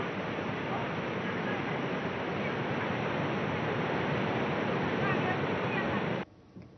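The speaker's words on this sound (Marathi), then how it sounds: "कृष्णा नदीच्या पाणी पातळीतही वाढ झाल्यामुळे मरढे गावच्या छोट्या पुलावरून पाणी गेलंय" Krishna river floodwater pours over a small village bridge at Mardhe in Maharashtra, a loud, constant roaring rush that fills the whole clip. It cuts off abruptly near the end.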